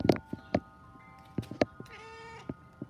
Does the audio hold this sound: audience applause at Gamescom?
no